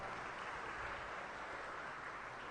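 Faint audience applause for a provincial governor's assistant at a university student orientation event, a steady, even wash of clapping from a large crowd with no voices.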